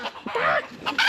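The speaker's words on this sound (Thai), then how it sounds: "มีไก่" A chicken clucks close by at a temple in Mueang Feuang, Laos, giving a few loud, fluttering calls in quick succession with no talking.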